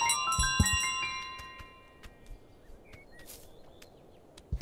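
A bell in Untitled Goose Game jingles in quick bright strikes as the goose runs, a cluster of ringing at the start, then scattered lighter tings and soft footsteps over a quiet ambient background.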